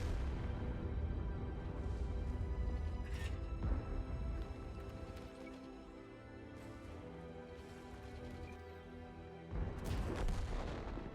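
Heavy tank cannon shots boom out in a World of Tanks battle, a few loud blasts spaced several seconds apart over a constant rumbling engine drone and clanking.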